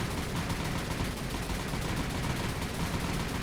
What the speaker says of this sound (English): Very heavy strafe as well with all these lightnings here